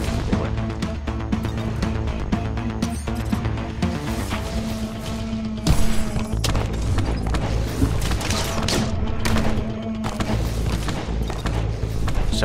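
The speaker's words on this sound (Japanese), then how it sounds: "下が爆発よ。" Dense in-game explosions and booms from the roguelike shooter Gatekeeper: Eclipse, loud and continuous over a busy soundtrack, with a sharper blast burst midway.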